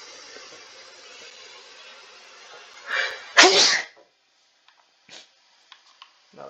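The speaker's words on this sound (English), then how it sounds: "I really feel the sneeze." A single loud sneeze, with a quick indrawn breath just before it and faint clicks afterward, over a low background hiss.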